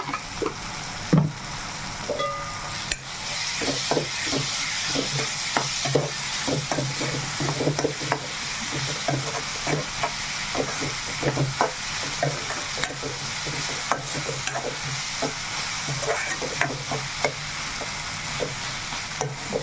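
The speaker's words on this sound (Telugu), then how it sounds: "కూర కూడా కాసేపు మగ్గాలండి అలా వదిలేద్దాం" A steady loud sizzle of curry frying in a pan with masala paste, made with dried fish and eggs, while a spoon scrapes and stirs in frequent close strokes throughout.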